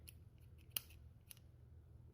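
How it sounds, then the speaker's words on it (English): Scissors snip off the dead root tip of an orchid during repotting, a couple of faint, crisp close-up clicks over quiet low background hum, with no voice. "I'm gonna cut off that tip."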